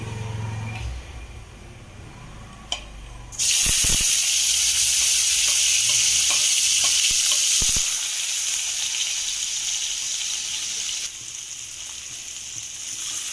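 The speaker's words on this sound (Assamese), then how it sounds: "ইয়াতে এই খুন্দি লোৱা নহৰু আৰু পিঁয়াজখিনি দি দিম।" Crushed garlic and onion drop into hot oil in a pan and burst into a loud, steady sizzle that hisses on evenly and eases slightly toward the end; no talking.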